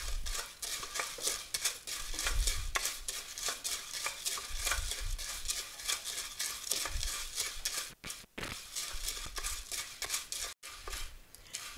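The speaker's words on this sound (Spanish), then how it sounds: "Y así va quedando nuestra pasta, se tiene que dorar bien doradita" Pasta browns in a pan for a chicken soup, a continuous close sizzle with repeated stirring scrapes of a utensil, broken by two brief silent gaps.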